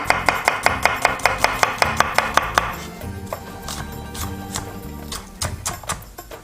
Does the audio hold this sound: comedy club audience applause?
no